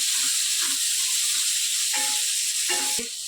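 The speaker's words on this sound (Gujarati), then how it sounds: "દસથી બાર જેટલી આપણે લસણની કળી એડ કરીશું આ રીતે અને થોડા સાંતળી લેવાના છે" About ten to twelve garlic cloves sauté in a pan with a steady, close hiss of frying oil and a few soft stirring scrapes.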